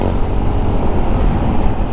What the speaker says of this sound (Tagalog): Sobrang daming scooter sa daan, no?